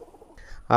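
A single loud coo from a pair of KTM pigeons rises sharply at the end after a moment of faint low murmur, close by.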